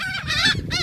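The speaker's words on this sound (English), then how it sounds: "It's the birds." Close, loud bird calls come in two or three quick overlapping bursts, harsh squawking and clucking cries like a tightly packed flock, with no talk over them.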